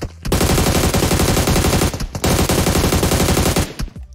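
Gunfire from a firefight in the battle-royale game PUBG Mobile, loud rapid automatic bursts that run almost continuously with two brief gaps, and no voices over it.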